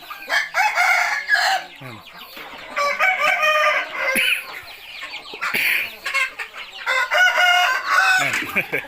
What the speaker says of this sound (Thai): ไก่ขันด้วยนะครับ